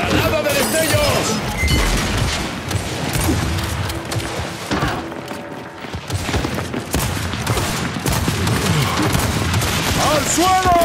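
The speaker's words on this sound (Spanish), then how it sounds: "¡Granada de destellos!" A flashbang grenade goes off in a shooter video game amid dense, continuous combat noise of crashes, bangs and rapid gunfire, loud throughout, with voices talking over the chaos.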